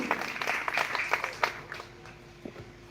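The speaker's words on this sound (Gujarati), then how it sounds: "જોરદાર તાળીઓથી આપણે વધાવી લઈશું" A crowd at a village school's Independence Day gathering breaks into applause for a donation, a dense patter of clapping that is strongest early and thins to scattered claps near the end.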